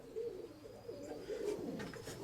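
Soft, low pigeon cooing repeats a few times at close range, with faint rustling in the background and no talk.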